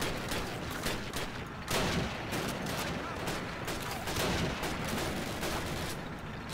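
Dense, continuous gunfire from a Call of Duty: United Offensive battle with an MG42 machine gun in play, a steady loud clatter of overlapping shots with no pauses.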